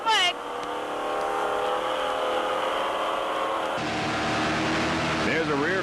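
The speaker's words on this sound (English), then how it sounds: "Dragon Lady, a 38-foot fountain powered by two 640 horsepower Troy Dennis inboards with Mercruiser drive." A 38-foot Fountain offshore powerboat with twin 640 horsepower Troy Dennis inboards and Mercruiser drives racing in a 1995 offshore classic, a loud sustained engine drone with wavering pitch and heavy wind roar, and a voice talking over it.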